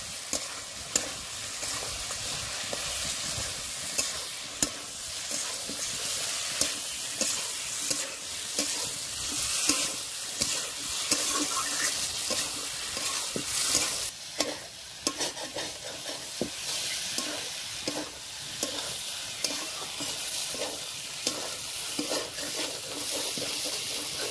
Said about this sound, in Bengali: সয়াবিন দিয়েও বেশ কিছুক্ষণ কষে নিতে হবে।